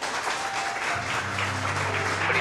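A television studio audience breaks into applause on cue during a drama production, a dense, steady wash of clapping from many hands that fills the whole moment.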